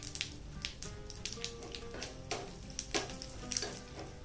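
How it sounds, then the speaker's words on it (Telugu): A tempering of mustard seeds, cumin, curry leaves, a dried red chili, a pinch of asafoetida and sesame seeds fries in hot oil, giving a steady close sizzle with crackling pops and occasional spoon stirs throughout. "నువ్వుల్ని కూడా వేసుకుని తాలింపుని చక్కగా వేపుకోవాలి."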